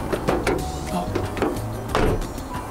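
The lightweight doors of a 2003 Subaru Impreza WRX STI Spec C Limited, a competition-based car, open and shut in a few quick thin clunks and rattles, close to the listener, with people talking over them.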